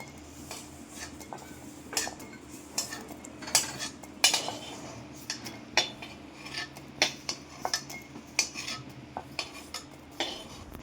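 Metal spoon clinks and scrapes in a cooking pan while boiled jackfruit seeds are lifted out, giving a series of sharp, close utensil taps and clatters spread unevenly across the clip, with no talking.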